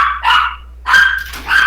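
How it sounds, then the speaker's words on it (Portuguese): A dog barks three times in loud, close, yappy bursts separated by short pauses. The bursts have no talk over them. "O cachorro tá respondendo aí"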